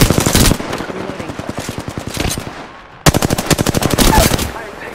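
Rapid automatic gunfire in a shooter video game, a steady close, loud stream of evenly spaced shots that fades slightly, breaks off, then resumes in another sharp burst.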